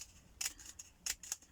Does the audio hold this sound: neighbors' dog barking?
no